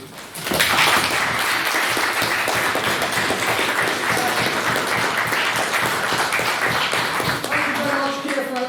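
An audience applauds the speakers at an evening debate on government climate policy, dense clapping that starts abruptly and holds loud and steady for several seconds, fairly close, fading slightly at the end.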